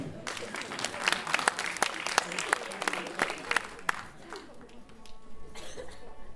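Crowd at a 2017 sports awards gala claps in sharp, distinct bursts. Scattered coughs and throat clearing mix in as the applause thins and fades toward the end.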